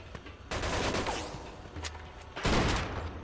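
Gunfire in the PS3 game Mafia 2: bursts of rapid shots with a dense, noisy crackle, a pause, then another loud volley, heard alone without talk.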